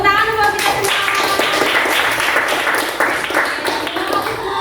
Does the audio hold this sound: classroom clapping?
yes